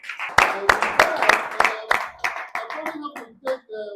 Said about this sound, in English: Ladies and gentlemen, can we please applaud the VC?